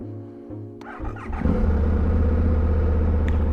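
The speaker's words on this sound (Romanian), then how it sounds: "Hai să vedem dacă pornește frumusețea asta de motocicletă." A motorcycle starter churns in a few rhythmic pulses before the engine catches and settles into a loud, steady idle close by, with no talking over it.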